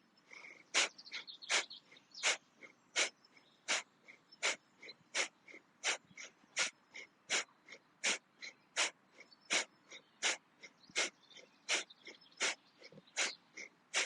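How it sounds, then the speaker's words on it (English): Breath of fire yoga breathing, done with arms held 60 degrees down: a steady train of about twenty-five sharp, evenly spaced nasal exhalations, close and distinct, with no talking. "we're going to apply the breath of fire"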